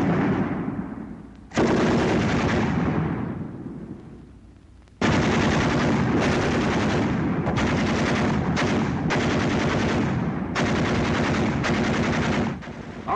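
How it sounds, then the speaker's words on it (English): Two WW2-era machine guns trade bursts of automatic fire, one long burst early, then a run of sustained, closely spaced bursts with brief gaps, loud and dense throughout. "Ever hear a battle between 2 machine guns?"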